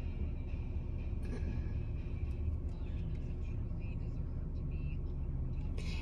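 Steady low rumble inside a car, parked or driving, continuous and fairly quiet throughout, with faint talk beneath it.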